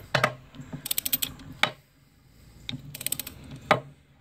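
A ratchet wrench clicks in quick bursts while loosening a bolt on a Dodge Ram 1500 steering rack, close and crisp, with short pauses and single knocks between the runs of clicks.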